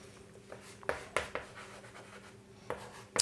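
A pen scratches out a maths solution in short, quiet strokes and taps, with a few sharper ticks scattered through a brief, close stretch of writing.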